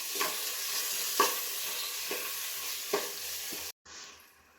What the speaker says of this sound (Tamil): வெங்காயம் நல்லா பொன்னிறமாக வர வரைக்கும் நல்லா வதக்கிட்டே இருக்கும்.